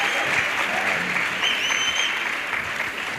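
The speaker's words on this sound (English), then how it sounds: "let's give our panelists a round of applause" An audience applauds panelists at a youth empowerment week event in the Vaal, a steady wash of clapping from a seated crowd lasting throughout, fairly loud and even with no one speaking over it.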